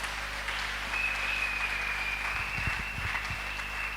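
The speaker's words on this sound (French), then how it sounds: "Est-ce qu'on peut acclamer pour la parole de Dieu?" A church congregation applauds for the word of God, a steady wash of clapping held at moderate loudness throughout, with a faint sustained tone and a few low thumps near the end.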